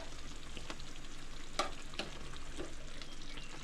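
Sausage in a thickened sauce simmers and bubbles softly in a pan, a faint steady sizzle broken by a few small pops and clicks, with no voices.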